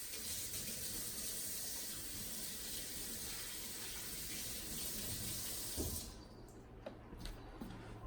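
Tap water runs steadily over the filter of a GE Café dishwasher in a sink for about six seconds, then cuts off, leaving a few faint clinks and handling noises.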